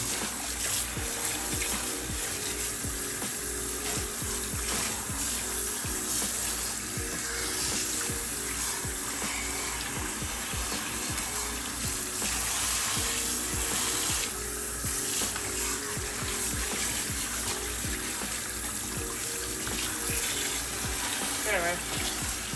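Tap water runs steadily and close while shampoo is rinsed out of hair, a continuous broadband wash with no breaks throughout.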